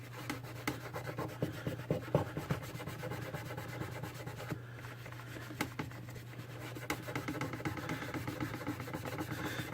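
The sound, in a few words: scrubbing console circuit board with brush and isopropanol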